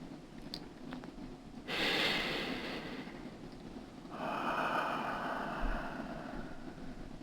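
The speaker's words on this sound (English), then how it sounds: "take a deep breath with me" A person takes a deep breath: a long, airy inhale followed after a pause by a long exhale, both soft and close, with quiet room noise between and no speech.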